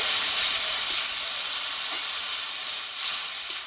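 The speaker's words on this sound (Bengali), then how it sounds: "এবার এখানে পরিমাণ মতো জল দিয়ে দেবো জলটা আমি নর্মাল জল দেবো" Potatoes fried with spices in a pan give off a steady, close, bright sizzle as water is poured in. The hiss holds loud throughout with slight swells, and no voices are heard.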